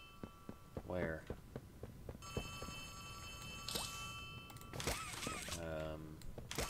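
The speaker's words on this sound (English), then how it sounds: "A phone is ringing." Phone ringing in the horror video game Poppy Playtime Chapter 3, a tonal electronic ring in short bursts amid footsteps and game noise while a player talks.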